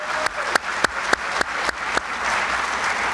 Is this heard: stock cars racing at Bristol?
no